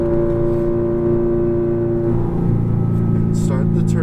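A Ferrari F430 engine on a racetrack holds a steady, loud tonal drone, then its pitch shifts as the car accelerates, with faint wind noise near the end.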